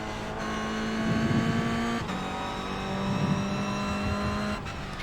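A GT3 race car engine in a racing video game holds a loud, steady high-revving drone, with quick gear shifts breaking the pitch twice and faint tyre noise beneath.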